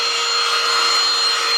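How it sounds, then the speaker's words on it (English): A Eufy HomeVac H11 cordless handheld vacuum cleaner runs at steady, loud full power, its continuous high-pitched whir unchanging and close to the microphone, with no speech. "The noise profile could definitely be quieter, but you know what? It's a vacuum."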